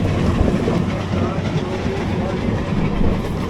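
A passenger train, the Coimbatore–Hisar AC Express, rolls through Vasai Road station, heard from on board as a steady, loud rumble with faint rail clatter running the whole time.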